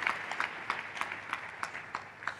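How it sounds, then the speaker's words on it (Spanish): A church congregation applauding during a service, fairly faint, with many hands clapping in a loose, uneven rhythm and distinct individual claps popping out of the wash. "Vamos a aplaudir a Jesús una vez más."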